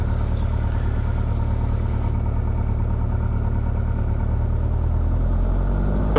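A Piper Tri-Pacer's piston engine runs steadily during a pre-flight run-up, with a loud, constant droning rumble close by that shifts slightly in pitch near the end.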